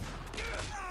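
Rapid gunfire from the video game Spec Ops The Line, a dense continuous burst of shots filling the whole second at moderate level with no pauses.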